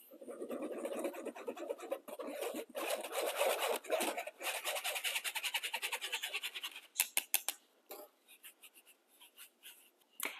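Flour, baking powder and salt being sifted produce a steady scratchy rustle with rapid repeated taps of the sifter, continuing for several seconds before turning into sparser ticking strokes, fairly quiet and close.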